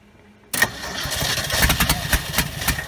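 After brief quiet, a 1969 Ford F250 engine that had sat for 11 years cranks and catches, then runs rough and loud close by, revving unevenly with sputters.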